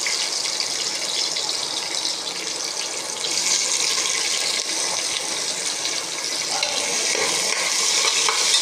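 Sliced onions frying in a pan of hot oil with cinnamon, cloves and bay leaf for a white kurma, giving a steady, close, loud sizzle and crackle that runs unbroken throughout with no talking.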